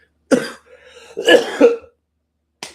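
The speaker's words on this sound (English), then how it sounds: "I was not coughing like this until I started doing this live." A few harsh, close coughs in quick succession, followed by a brief pause and another short cough.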